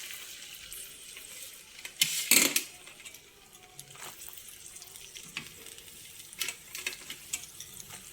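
Onions are added to a pan of mutton keema and fry with a faint, steady sizzle, broken by one sharp clatter and a few light scraping stirs.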